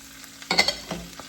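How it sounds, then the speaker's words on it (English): Spinach and tomatoes drop into a hot pan, a burst of sizzling and clatter that quickly fades to a lighter crackle, with a few small knocks after. "next we're gonna go ahead and add in our spinach and our tomatoes"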